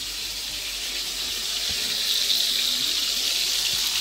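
Cold water gushes steadily from a tap into a sink, a close, bright hissing splash that grows slightly stronger partway through.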